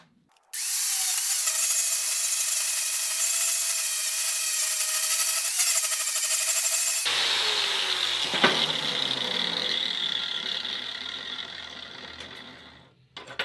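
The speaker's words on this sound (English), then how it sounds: "I put a 80 grit flap wheel on here for steel. I'm going to try to get some of this mill scale off." An 80 grit flap wheel on an angle grinder grinds mill scale off steel, a loud, steady high whine running continuously for about 12 seconds, its pitch and texture shifting midway as the wheel bites into the metal.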